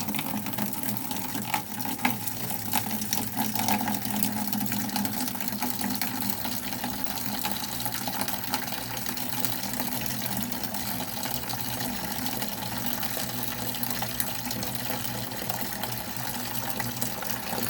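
A small liquid pump drains aquarium water from a five-gallon tank in a steady, continuous watery whir and gurgle, moderately loud and unbroken, with no talk.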